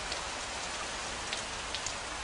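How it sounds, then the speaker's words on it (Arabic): Steady rain pours throughout a film scene set in ancient Egypt, a dense even hiss with occasional sharper drop splashes, close and continuous with no voices. "هذا المطر يعني أن السنوات 7 من الوفر قد بدأت."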